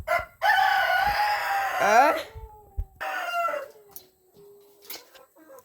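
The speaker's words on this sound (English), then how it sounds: "rooster." A farmyard rooster crows loudly and close by, one long harmonic call with a falling tail, followed by a second shorter crow, while a person speaks briefly among the chickens.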